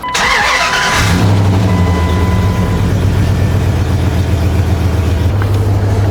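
A 2001 Dodge Ram 2500 pickup cranks briefly and fires up about a second in, then settles into a steady, loud, rumbling idle that continues to the end, close by with no talk.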